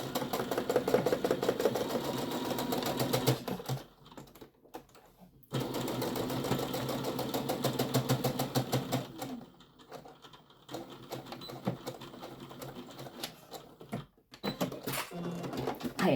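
A home sewing machine stitches along the bottom of a tote bag with a fast, steady mechanical chatter and a faint clicking. It runs in three bursts with short pauses between them, close by.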